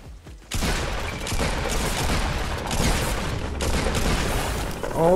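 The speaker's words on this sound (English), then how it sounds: "I am being shot at." Dense, loud gunfire crackles almost without a break in the Fortnite Battle Royale video game, with a brief quiet moment before the volley starts.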